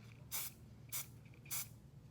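Three short hissing bursts of hairspray sprayed onto a charcoal drawing on paper, evenly spaced about half a second apart, close and fairly soft against a quiet background.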